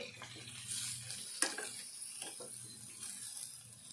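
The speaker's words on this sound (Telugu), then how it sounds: "ఈ కారం అంతా చికెన్కి పట్టేటట్టు వేపుకోవాలి" Chicken pieces coated in chili powder frying in a pan, a soft steady sizzle with occasional scraping stirs of a spatula, quiet and close, with no talking.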